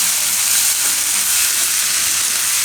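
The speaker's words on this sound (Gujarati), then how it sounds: "તો આમાં ટમેટા નાખી દઈએ." Steady loud sizzle of tomatoes frying in a hot pan while cooking Tandoori Maggi, a continuous bright hiss with no talking.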